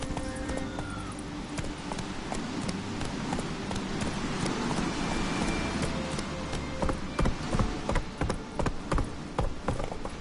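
Roach the horse gallops steadily in a PS4 video game, hooves drumming in a fast, continuous clip-clop rhythm that grows louder toward the end.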